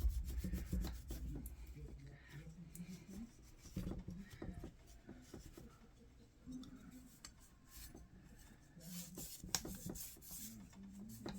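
Green scrubby pad rubbing and rasping over a part of a vintage Ocean City baitcaster reel during cleaning, with steady scratchy strokes and small clicks and knocks of handling, close and moderately loud, with no talk.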